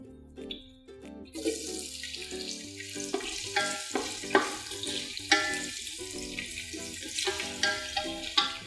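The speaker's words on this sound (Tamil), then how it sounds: "இப்போ வெங்காயம் சேர்த்துக்கலாம்" Onions fry with bay leaves in a pot for turkey biryani, a steady hiss and crackle with intermittent stirring knocks, under soft background music.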